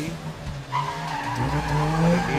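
A modified Group A Nissan March race car up to 1050 cc on the Eliyakanda hill climb, its engine droning and climbing in pitch, with tire skids and squeals mixed in at moderate distance.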